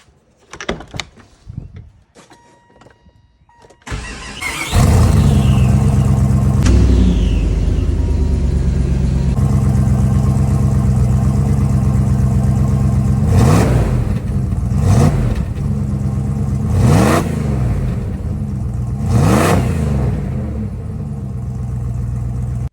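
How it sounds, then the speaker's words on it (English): A Jeep Grand Cherokee ZJ V8 with a repaired exhaust starts up and idles with a deep rumble, then revs several times in sharp, rising bursts, loud and close, with no one talking. "That V8 doesn't sound too bad, does it?"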